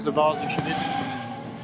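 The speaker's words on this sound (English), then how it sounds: "a spin there from the number 60 Mercedes, the yellow car of Andrew Gilbert" The number 60 Mercedes race car spins during an FIA WEC endurance race, its tires squealing briefly over engine roar, with commentary talk on top.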